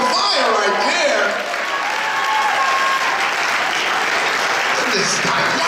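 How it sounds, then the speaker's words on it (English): Audience applause fills a room at a foundation's annual gala dinner and dance, steady and loud clapping from a large crowd throughout, with a voice talking over it. "give him a big round of applause"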